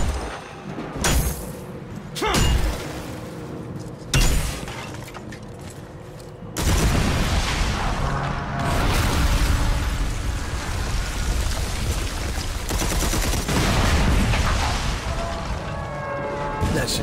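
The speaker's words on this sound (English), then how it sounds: "I suggest using the plasma cannon." Plasma cannon fire in Red Faction Armageddon: a few sharp bursts in the first seven seconds, then a loud, sustained roar of blasts and rumble that fills the rest of the clip.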